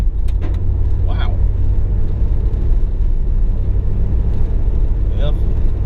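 Steady, loud low rumble of a car rolling along a rough country road near Greenwood, Mississippi, heading to a festival, with a few brief voices in the cabin over the continuous road noise.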